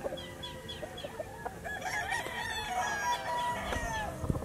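A Boston Roundhead stag, a young gamefowl rooster on a Batangas game farm, crows loudly and nearby in drawn-out calls, with clucking and other fowl around it and no talking.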